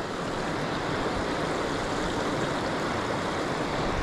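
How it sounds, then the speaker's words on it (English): River rapids rush in a loud, constant roar of churning water that is dense and unbroken throughout, with no other sound standing out. "The rapids are a little noisy."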